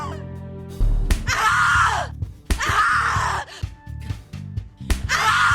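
A woman screams in The Cat Lady video game, long harsh bursts of shrieking repeated in several rounds, close and loud, with groans and gasps between them over a low droning music bed.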